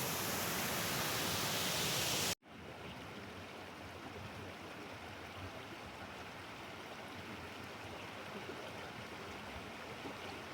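Panther Creek Falls near Clarkesville, Georgia sends a steady, broadband rush of falling water that is loud and close for the first two seconds, then continues as a softer, even roar for the rest.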